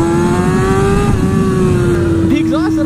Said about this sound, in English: this fucking Compworks exhaust is just stupid